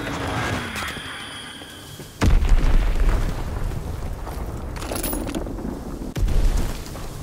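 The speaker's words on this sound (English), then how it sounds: "Enemy bomb incoming!" In a WWII video game, an enemy bomb hits with a sudden loud, deep blast and a rumbling roar that lingers. A second, sharper explosion follows a few seconds later.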